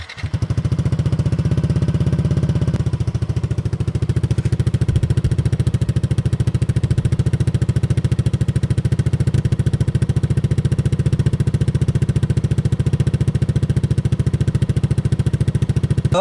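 Yamaha NMAX V1 scooter engine idling through a Villain muffler with its silencer fitted, a steady low throbbing exhaust drone, loud and close, continuing evenly throughout.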